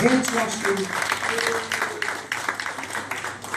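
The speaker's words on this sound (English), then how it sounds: "We need applause for this guy." An audience at a business training session breaks into applause, a dense, sustained wash of clapping that runs underneath a voice speaking over it.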